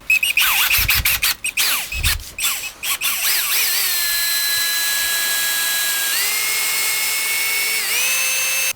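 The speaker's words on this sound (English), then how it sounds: "I'm going to go ahead and drill a hole" A power drill whirs with a few short bursts, then runs steadily with a high, shifting whine as it bores a hole into a headless guitar body for bridge mounting, loud and close.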